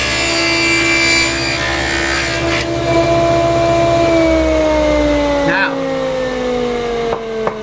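A woodworking dado cut, made with an Incra jig, sounds as a loud, sustained machine whine with a steady cutting drone. The tone drops in pitch partway through as the blade bites, then winds down near the end.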